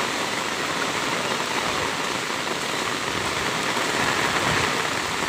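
Heavy rain pours steadily during a storm on the way home from school, a dense, loud, unbroken hiss with no break for the whole stretch and no voices.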